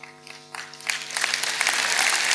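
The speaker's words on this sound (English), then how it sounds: "give them a massive round of applause" Applause for youth leaders begins over a sustained musical chord, scattered claps building quickly into a fuller, louder round from the crowd.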